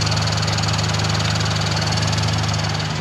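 A car AC compressor runs on a turbocharged Mitsubishi Lancer Evolution with a loud, close, steady engine drone and a constant low hum, unchanging throughout and without voices.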